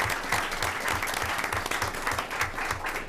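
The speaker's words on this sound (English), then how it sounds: "Deserves a big round of applause." Steady applause from a school board meeting audience honoring a Minnesota Teacher of the Year finalist, dense and continuous clapping throughout at even loudness with no voices standing out.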